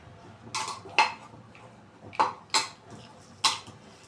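A spoon stirs grated carrot in a pressure cooker for carrot halwa, giving about six sharp metallic clinks and scrapes at an uneven pace, close and fairly loud against a quiet kitchen background with no talk.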